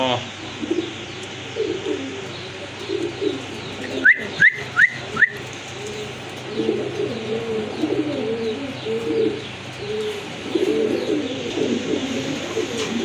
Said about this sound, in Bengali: কিন্তু এক জোড়া ব্ল্যাক নান কবুতর